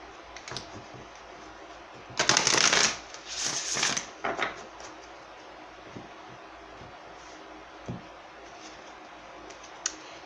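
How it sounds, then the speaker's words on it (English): Tarot oracle cards are shuffled in a couple of brisk, crisp riffling bursts, followed by scattered soft clicks and light handling sounds as cards are pulled, close and clear in a quiet room. "Let's go ahead and pull some more tarot oracles."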